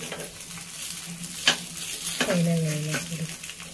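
Rava appe (semolina dumplings) sizzle steadily in a hot appe pan as they are flipped, with a few sharp clinks from the utensil against the pan and a brief squeaky tone.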